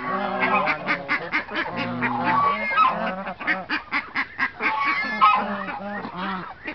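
A loud, busy chorus of honking and quacking ducks and chickens on a farm close by, calls overlapping in quick bursts with no pauses.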